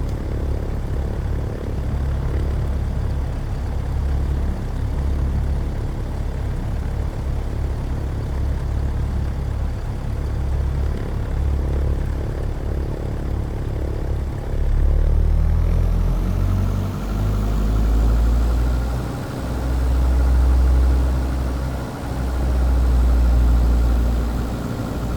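A Diamond DA40 propeller plane in MSFS 2024 taxis and turns tightly. A loud, steady engine and propeller drone sits at idle, then swells and pulses in slow waves as the throttle shifts partway through.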